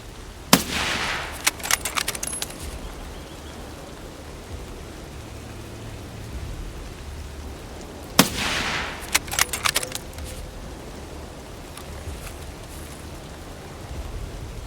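Two sniper rifle shots in Escape from Tarkov, each a loud sharp crack followed by rolling echo and bolt-action clatter, spaced about eight seconds apart over a steady rain-like ambient hiss.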